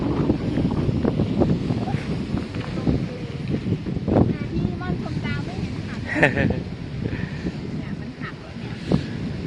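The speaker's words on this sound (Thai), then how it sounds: "คิดว่ามีแต่ลมมั้ง" Wind at a seaside campsite buffets the microphone in a constant rough rush, with surf-like noise underneath and people talking throughout.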